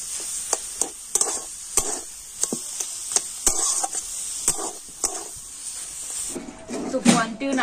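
A spiced cauliflower filling with salt, cumin powder and coriander powder is stirred in a pan, making repeated scraping strokes at a steady rhythm over a soft background hiss.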